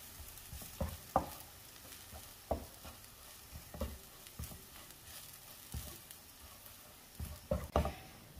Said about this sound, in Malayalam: തീ കുറച്ച് വെച്ച് തന്നെ വഴറ്റിയെടുക്കണം.